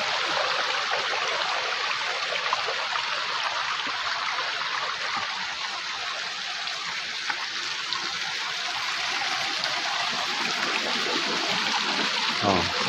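River water pouring through a makeshift spout among large boulders, a constant close rushing and splashing flow that stays steady throughout, with no voices.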